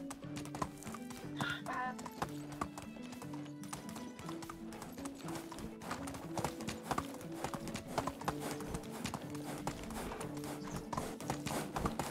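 Horse hooves clip-clop at a steady galloping rhythm over a continuous game music score in the medieval survival game Medieval Dynasty, with a brief whinny near the start.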